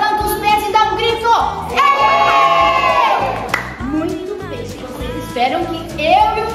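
Group of children shouting and cheering together on cue, a loud crowd-like burst over music at an indoor hotel event, with an adult voice speaking over parts of it.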